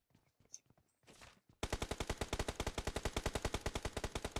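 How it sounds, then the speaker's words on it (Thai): Rapid automatic gunfire from a first-person shooter video game, a long steady burst of loud, evenly spaced shots after a few quieter pops and faint rustling. "ได้ยินเสียงแบบยิงกันตลอด"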